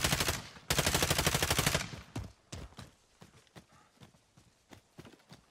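Gunfire in a shooter video game: dense rapid bursts of automatic fire up front, then scattered single shots and quieter impacts trailing off.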